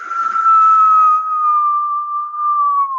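A voice imitates howling wind with one long, steady whistle that slowly drops in pitch, loud and close.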